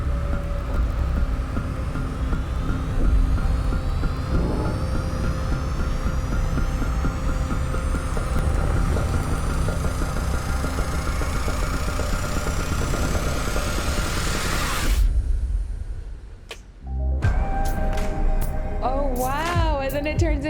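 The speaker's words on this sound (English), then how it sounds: "The sound you're hearing is a light black hole banging on space each time it gets close." Sonification of a lighter black hole falling into a heavier one: a dense, throbbing drone with rising whistling tones that climbs for about fifteen seconds, cuts off abruptly, then gives way to warbling, chirping sweeps.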